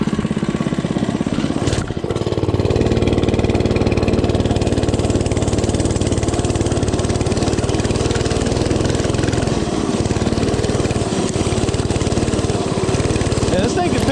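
A cheap mini bike's small engine runs steadily close by, with a continuous rough putter that holds for the whole stretch after a brief bump near the start.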